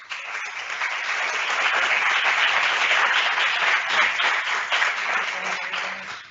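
An audience at a talk on workplace wellness programs applauds warmly, with steady clapping that swells and then fades out over several seconds.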